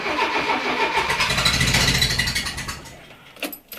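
A car engine cranks and catches, its starter whirring into a steady running note that fades out, followed by a couple of short clicks near the end.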